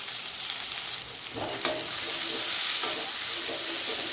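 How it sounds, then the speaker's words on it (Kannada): Onions, dried red chillies and spices frying in a pan, a steady close hiss of sizzling oil with a few stirring scrapes mixed in and no talk. "ನೋಡಿ, ಚೆನ್ನಾಗಿ ಫ್ರೈ ಆಗಿದೆ"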